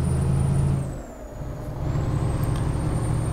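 A truck in Euro Truck Simulator 2 rumbles with a steady low diesel engine drone, its air brake giving a sharp hiss partway through before the engine note settles back in, driving through Bucharest.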